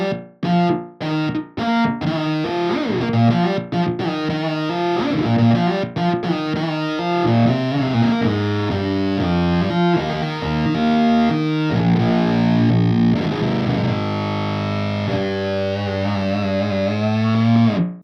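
Electric guitar runs through a Neural DSP effects preset, a heavily distorted, robotic, vocal-like tone playing a continuous loud riff with choppy stops at the start.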